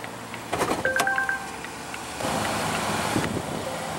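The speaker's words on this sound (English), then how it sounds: "All windows are fully automatic in the XC90." Power windows move on a 2016 Volvo XC90 with a 2.0 L supercharged and turbocharged four-cylinder, with a brief chime of beeps followed by a steady electric motor whir, close and fairly quiet.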